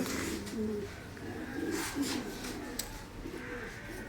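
Racing pigeons coo close by in soft, low, throaty phrases that repeat over a steady background hum.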